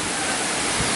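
Sturtevant Falls, a waterfall, roars as a steady, loud broadband wash of falling water, close by and continuous with no speech over it.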